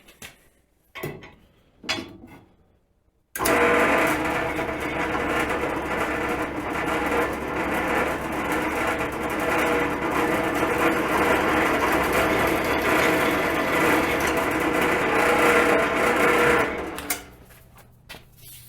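Power drill with a bigger bit boring into a rivet head on a John Deere 14-T Baylor hay baler, a steady high whine and grinding running about thirteen seconds after a few brief knocks and handling sounds.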